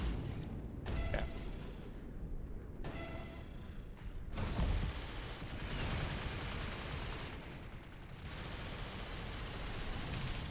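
Gunfire in the robot shooter game Assault Bots crackles as dense, continuous bursts of shots and explosions, fairly loud and without a break.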